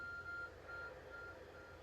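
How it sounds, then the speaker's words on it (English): A glowing object in Pokémon Legends: Arceus emits an electronic beep: a steady high tone sounding in three separated pulses, the first longest, over a low background hum. "There's a glowing, beeping object over there."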